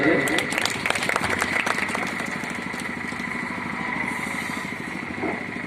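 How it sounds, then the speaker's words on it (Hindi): An audience claps for guests taking their seats at a birthday poetry gathering for Mulayam Singh Yadav; dense, steady applause runs throughout with a voice talking over it. "एक बार इनके लिए तालियां बजा दीजिए।"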